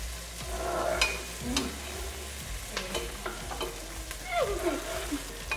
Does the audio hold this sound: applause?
no